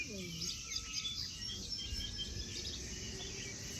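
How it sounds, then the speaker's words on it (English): Cicadas buzz outdoors in a neighborhood, a steady high-pitched drone running unbroken under occasional bird chirps and light background noise. "Haven't been carried away by the cicadas"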